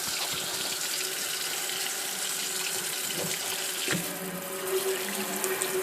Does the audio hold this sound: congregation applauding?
no